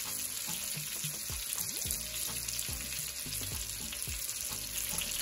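Salmon fillet frying in a hot pan for honey garlic salmon gives a loud, continuous crackling sizzle, with a few faint knocks and scrapes and no voices.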